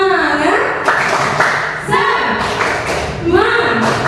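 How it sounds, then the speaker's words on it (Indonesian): A group claps together in a rhythmic cheer pattern in a classroom, sharp bursts of claps grouped in beats with brief pauses between, close and loud. "ayo kita tepuk semangat dulu"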